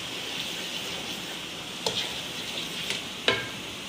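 Dal chana masala roasting in oil in a pan, a soft continuous sizzle broken by a few sharp clicks of a spoon stirring, close and fairly quiet.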